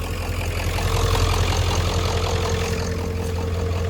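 Engine of an old truck idles after warming up, a steady low rumble running continuously and close with no one talking.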